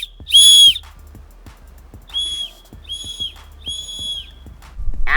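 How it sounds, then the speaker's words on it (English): A survival whistle built into a Survival Bark and Sharp tool blows four shrill tones, one long blast and then three shorter ones in steady succession, loud and close with a brief rustle at the end. "It's got a survival whistle built right in."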